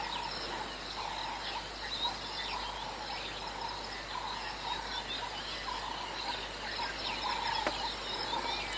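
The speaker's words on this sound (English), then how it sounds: "Quite a lot of smaller birds are starting to call now" Small birds call and chirp at sunrise on an African safari, a faint, continuous chorus of overlapping calls and insect trills over a low outdoor hum, with no voices.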